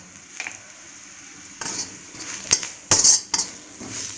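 Spoon scraping and clinking against a pan while mashed kappa (tapioca) and egg are mixed for Kerala street-style mutta kappa, with a soft sizzle underneath and a few sharper metal knocks near the end.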